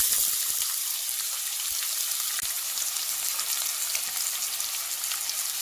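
Onions fry in hot oil for tamarind rice, a soft, even crackling sizzle close by with occasional faint taps, steady throughout and without any talking.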